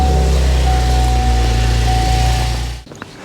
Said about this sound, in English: let's turn the engine over to make sure that belt is working as it should